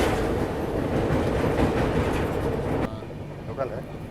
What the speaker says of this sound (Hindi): ये है दिल्ली की लोकल ट्रेन।